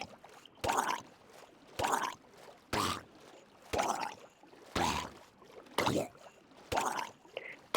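Rhythmic paddling splashes of a boat moving across water in Minecraft, about seven evenly spaced watery strokes over a soft background, fairly quiet and without speech.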